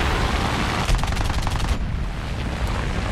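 The machine guns of a CR.32 biplane fire in War Thunder as one short burst of evenly spaced shots at a slow rate. The burst rides over a constant loud engine and wind drone.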